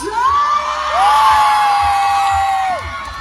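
A crowd at a mall stage show cheers and shouts loudly, with high-pitched whoops and yells rising over a continuous roar of many voices.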